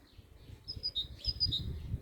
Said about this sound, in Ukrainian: І пташки співають